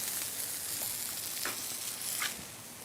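Steaks sizzle and crackle steadily on a Blackstone flat-top griddle, a close, continuous frying hiss with a few brief scraping stirs and no talking.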